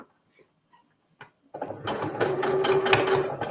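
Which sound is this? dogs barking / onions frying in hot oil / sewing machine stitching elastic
sewing machine stitching elastic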